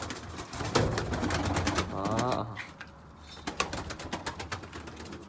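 Pigeons coo in low, rolling calls close by, mixed with rustling, a brief flutter of wings and scattered clicks.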